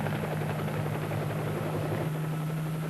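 A helicopter flies overhead with a loud, steady rotor drone and thick engine hum that stays constant throughout, with no voices.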